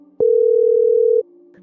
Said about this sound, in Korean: 지금 전화 연결해 보겠습니다